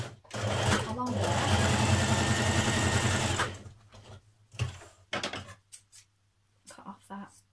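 A sewing machine stitches a vintage-style apron in one loud, close run of about three seconds, then stops, followed by sparse handling clicks and rustles.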